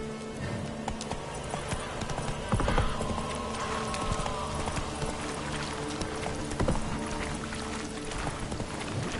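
Galloping hooves of a horse in The Witcher 3 pound out a steady, busy clip-clop under game ambience and music, with a brief snort or whinny and no talking.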